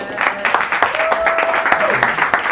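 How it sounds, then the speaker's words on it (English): Audience claps for women invited on stage at a live event, a short burst of scattered applause under a voice speaking and a brief tone. "Give the ladies a round of applause."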